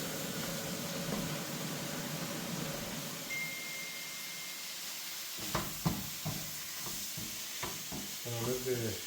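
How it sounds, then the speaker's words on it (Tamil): Carrot, cabbage and green chilli stir-frying in a pan for street-style prawn vegetable fried rice, a steady hissing sizzle throughout with scraping spatula strokes joining in the second half. "ஃப்ளேவருக்கு 2 க்ரீன் சில்லி இன்னும் போட்டு நல்லா ஃப்ரை பண்ணிவிட்டு"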